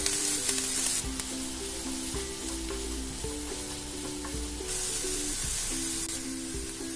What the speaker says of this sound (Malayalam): എന്നിട്ട് ഈ സവാളനെ നല്ല പോലെ വഴറ്റിയെടുക്കാം.